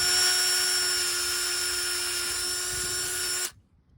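A power drill bores into a metal sign post, a loud, steady high-pitched whine with sustained tonal overtones that runs evenly for several seconds before stopping abruptly, leaving near silence.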